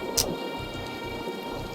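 Rain falls steadily in the game Skyrim, a continuous soft hiss with a sharp brief crack near the start and low rumbling thunder underneath.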